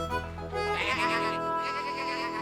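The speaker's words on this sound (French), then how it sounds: "Oh non, ce sont les moutons." Sheep bleat in a steady, wavering chorus, loud and close, with several animals calling over one another throughout, in an animated children's cartoon.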